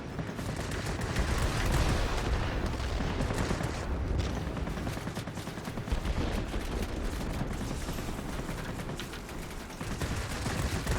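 Anti-aircraft fire aimed at a plane in World of Warplanes, a dense continuous roar of rapid shots and bursts layered over engine drone, loud and unbroken throughout.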